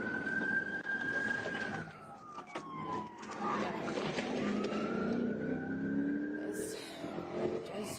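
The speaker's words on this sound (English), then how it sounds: "Those GSP cars go fast. This is not a chase, but it's definitely high speed." Georgia State Patrol police cars racing past at high speed, engines roaring loudly with rising and falling siren wails and Doppler sweeps over continuous road noise.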